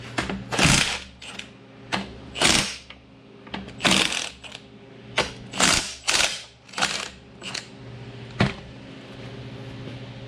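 Socket wrench with a 3/4 socket ratcheting on a bolt of a 1955 tractor, giving sharp irregular metallic clicks and bursts spread across the clip, close and loud.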